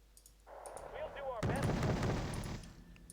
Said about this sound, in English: Let's bomb those Gurkhas out of existence.